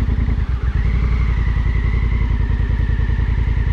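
An adventure motorcycle with traction control set to level 2 rides through slushy snow, its engine a steady, close, loud throbbing drone with a little clatter, and no talking.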